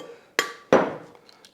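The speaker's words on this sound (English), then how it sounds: "And just crack these into a bowl." Two sharp cracks of eggs, one of them very large, against the rim of a rinsed bowl, each a crisp tap followed by a brief wet spill, then a couple of faint clinks.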